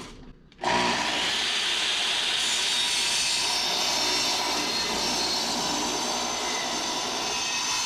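A saw plunges into a clamped wooden board and runs through it in one loud, continuous, close-up cutting roar after a short quiet lead-in.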